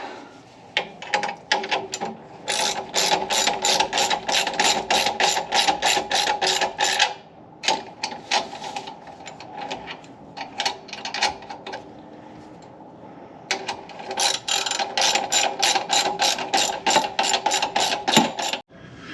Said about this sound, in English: we're right up against the other pipe in the center of these clamps, and tighten them down